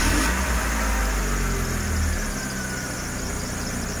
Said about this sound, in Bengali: আমরা গাড়িটা স্টার্ট দিয়ে আপনাদেরকে দেখাবো